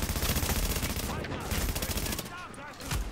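Rapid automatic gunfire in a shooter game set in wintry New York, dense bursts of overlapping shots rattling almost continuously at close range with brief lulls, and a voice faintly underneath.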